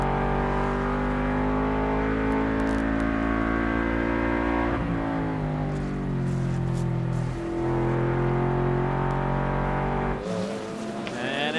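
Onboard a Cadillac GT race car at Sears Point during a World Challenge GT race, the engine roars loud and continuous, rising and falling through upshifts and downshifts as the car accelerates and brakes.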